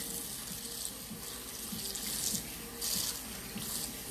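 Cold tap water runs steadily into a kitchen sink over freshly boiled fettuccine noodles, making a continuous close splashing rush that swells slightly at times, with no talk.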